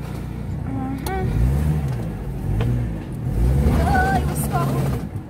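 A car passing on a badly damaged road, its engine rising and falling as it rumbles near, with wavering whines and bumps over a loud steady drone.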